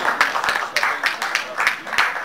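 An audience at a charity tombola draw in Martinique gives a short round of applause, several uneven bursts of clapping close by with a voice heard among them.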